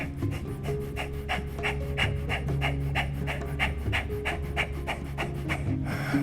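Kapalabhati yoga breathing performed in a squatting Malasana pose: a steady rapid series of about twenty short, forceful nasal exhales, evenly rhythmic and close, over a low background hum.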